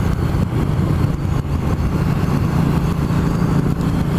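A 2016 Triumph Street Twin motorcycle engine droning steadily while riding, a loud continuous low rumble mixed with wind noise, with no breaks.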